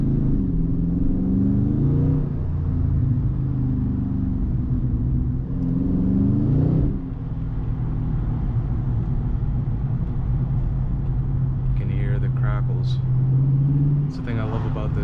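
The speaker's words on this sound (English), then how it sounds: "That's the thing I love about this exhaust." A 2022 Dodge Charger ScatPack's exhaust gives a steady, deep rumble while driving, rising briefly with revs, as someone talks over it throughout.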